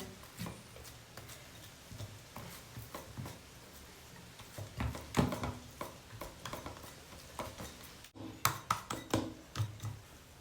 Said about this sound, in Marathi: या तेल लावून पेल्याला घेतलेलं आहे पेल्याने मी इथं पसरून घेते